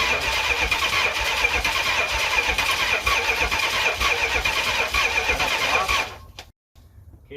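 A Mopar Dodge 400 big block, run on the ground for the first time in 20 years, cranks over loudly and continuously with rapid starter chugging, then cuts off abruptly near the end.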